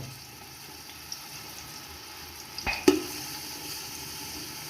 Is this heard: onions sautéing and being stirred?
yes